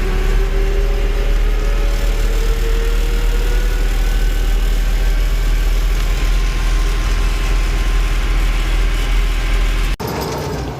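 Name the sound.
tractor engine running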